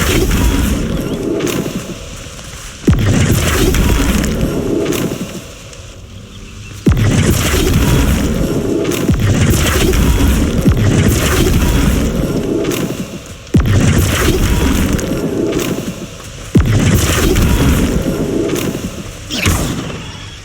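Repeated Flipendo spell blasts in Hogwarts Legacy, a series of loud booming bursts, each followed by a rumbling tail, recurring every few seconds in a dense, full-bodied mix.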